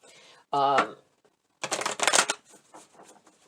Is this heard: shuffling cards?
yes